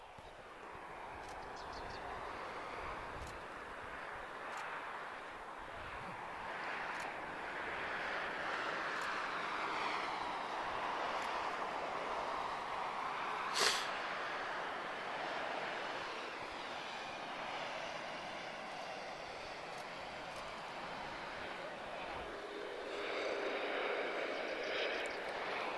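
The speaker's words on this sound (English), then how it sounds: "A320-232, so V2500 series engine, slightly different from the ones that TAP operate." An Airbus A320-232 with V2500 engines at Lisbon Airport produces a broad, sustained jet roar that swells and fades over about half a minute, loud and steady, while a person talks intermittently.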